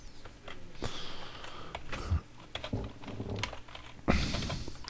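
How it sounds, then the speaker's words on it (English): Typing on a computer keyboard while setting up tabs in a word processor, a quiet, irregular patter of key presses close by with a few louder clacks and sniff-like breaths in between. "Oh dear, my typing skills getting too rusty."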